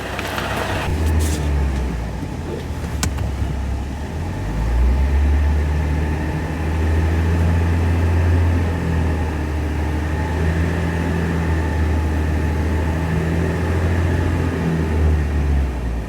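A car engine runs at a steady low idle as the vehicle drives slowly up onto low-profile hydraulic car ramps rated at 11,000 lbs; a continuous close rumble with a faint click near the start.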